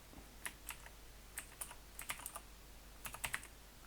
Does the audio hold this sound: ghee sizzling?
no